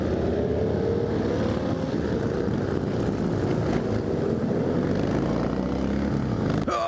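A pack of more than forty Harley-Davidson motorcycles rumbles through a tunnel, a dense, loud, continuous engine roar echoing off the walls, steady throughout with a brief sharper burst near the end.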